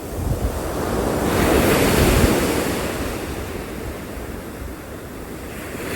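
Ocean surf at Point Lobos rolls in as a steady, loud wash of breaking waves, swelling and easing, with gusty wind rumbling across the microphone.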